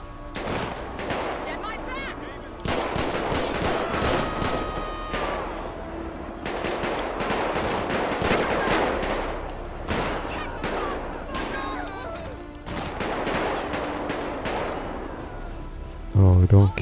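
Rapid bursts of gunfire crackle through a GTA 5 police shootout, with dense volleys and machine-gun-like rattles recurring across the scene and a loud close blast at the end, while someone talks over the shooting.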